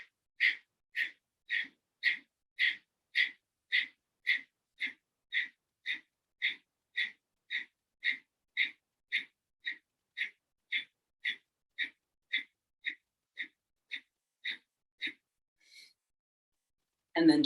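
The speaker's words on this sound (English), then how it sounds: "Short exhales through the nose." Short rapid nasal exhales of pranayama breathing, about two per second in a steady rhythm, close and clear for around fifteen seconds before stopping, with no talking.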